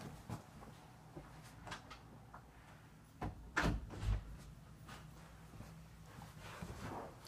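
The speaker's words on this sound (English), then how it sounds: "I have to shut my door." A room door closes quietly indoors, with a soft shuffle and a muffled thump near the middle after a few faint knocks and movements.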